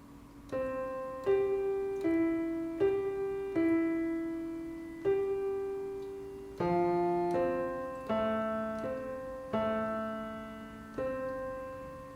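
A piano plays a simple, slow exercise, single notes and two-note pairs struck evenly and left to decay, clear and unaccompanied.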